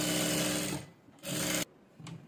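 A sewing machine stitching a fabric strip on a midi dress, running in two short bursts of steady mechanical whirring with a brief pause between and a faint third spurt at the end.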